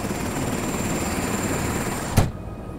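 A helicopter near Niagara Falls gives a steady, close rotor and engine drone, broken by a sharp thump near the end before the noise drops away.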